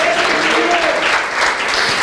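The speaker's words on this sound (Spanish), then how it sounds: "Dale el aplauso al Rey." A church congregation applauds during a Spanish-language sermon, a dense, loud, continuous wash of clapping from many hands, with a voice faintly audible underneath.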